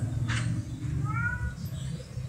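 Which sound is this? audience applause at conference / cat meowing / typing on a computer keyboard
cat meowing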